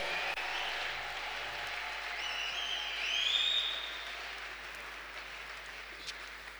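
A church congregation applauds and acclaims the Lord, a soft, distant wash of clapping and raised voices that holds steady and swells briefly in the middle.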